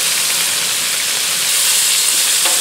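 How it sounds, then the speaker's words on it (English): Bacon sizzling and frying on a Blackstone griddle as it is flipped, a loud continuous hissing crackle close up with no talking. "we're going to flip the bacon here just to get the bacon a little bit closer together"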